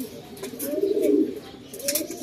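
Racing pigeon cooing to call for a mate, a few low rolling coos close by, with other birds chirping faintly in the loft around it.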